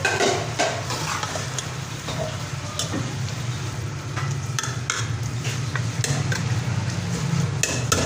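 Kachnar keema with green chillies stirred in a pan, a steady sizzle under repeated scraping and clinks of a spoon against the metal, no talk.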